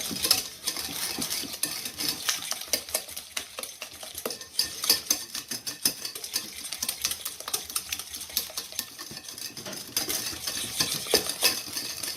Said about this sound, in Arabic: يعني نخلط مليح لندوب السكر والخليط تاعي يولي شويه